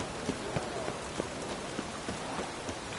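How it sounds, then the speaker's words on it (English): Steady rain in the video game The Witcher 3 patters and hisses across a surface, with scattered louder drops landing at irregular moments; no voices. "It only ever rains these days."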